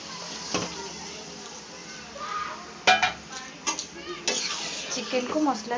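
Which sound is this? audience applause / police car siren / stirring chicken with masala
stirring chicken with masala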